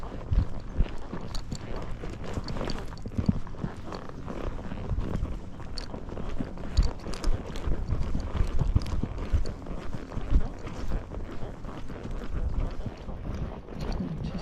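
A grey Missouri Fox Trotter mare, ridden alone, walks downhill on a trail, her hooves thudding in a continuous, uneven patter amid rustling trail noise.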